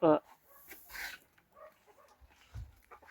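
Crested chickens and ducks in a farmyard give a sharp call at the very start, followed by scattered soft clucks and a low thud, all faint and intermittent.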